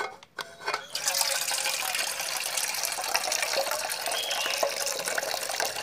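Clean water from a tap pours steadily into a cooking pot, a bright continuous splashing gush that starts after a brief clatter and runs loud and close without talk.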